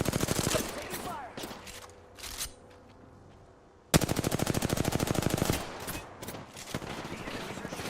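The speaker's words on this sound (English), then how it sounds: "The enemies are shooting at me." Bursts of rapid automatic gunfire from enemies in a shooter video game, loud dense volleys broken by a quieter gap with scattered shots, then a sudden heavy barrage, with faint game voice lines underneath.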